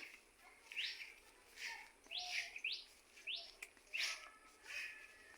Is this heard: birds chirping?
yes